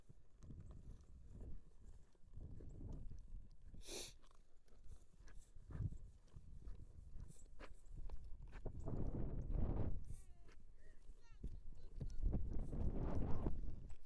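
A horse's hooves clip-clop on the ground during a training session, irregular thuds and scuffs at moderate distance, quiet overall, with some faint rustling and no clear talk.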